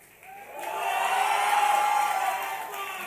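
Audience at a youth forum finale in Bangladesh cheering for finalists, a crowd roar that builds quickly and holds loud and sustained in a large hall, with whoops over the top.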